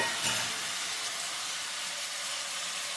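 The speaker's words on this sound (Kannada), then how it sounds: "ಎಲ್ಲ ಚೆನ್ನಾಗಿ ಫ್ರೈ ಮಾಡಬೇಕು" Green chillies and cashews frying in hot oil for soya gravy, a loud, steady bright sizzle that begins with a short burst and then holds evenly throughout, with no voices.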